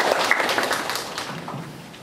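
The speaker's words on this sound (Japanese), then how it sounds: "皆さん拍手でお迎えください。" Brief burst of clapping from a small group, scattered and fading over about two seconds.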